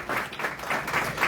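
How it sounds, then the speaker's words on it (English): Applause from an audience in a meeting room, a brief, even patter of many hands clapping at moderate volume with no talk over it. "A huge round of applause for everyone"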